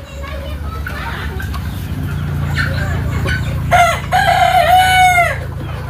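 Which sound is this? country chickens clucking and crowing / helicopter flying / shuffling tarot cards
country chickens clucking and crowing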